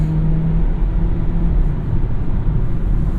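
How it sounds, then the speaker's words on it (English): Steady low engine rumble and road noise inside a 2017 Kia Niro FE hybrid on the move, loud and continuous, with no clear shift event standing out and no voices. "So downshifts, very nice and quick"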